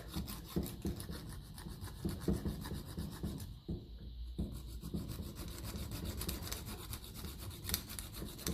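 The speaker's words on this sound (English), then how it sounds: "Maybe even a bigger hacksaw" A narrow hacksaw cuts a slot in a starter part from a 1955 Ferguson 20 diesel tractor's Lucas starter, producing continuous close rasping strokes in a steady back-and-forth rhythm, with one brief pause midway.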